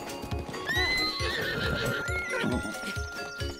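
Rhythmic hoofbeats of a galloping horse in The Legend of Zelda: Breath of the Wild pound steadily throughout, with a high whinny rising over them near the start, loud and close.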